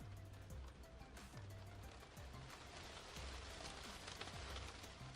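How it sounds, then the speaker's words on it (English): Steady, dense rainfall fills a scene in the video game Danganronpa V3: Killing Harmony, an even hiss of drops pattering on surfaces throughout, with no speech. "The rain is loud and distracting."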